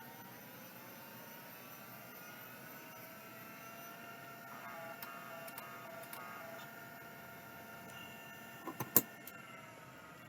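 An old hard drive spinning up, a faint rising motor whine with a steady mechanical hum, ending in a few sharp clicks near the end.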